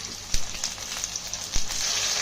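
Onions and spices such as ginger, garlic, cumin, coriander, cinnamon and cloves frying in a pan for fish curry, giving a steady close sizzle broken by a couple of sharp pops.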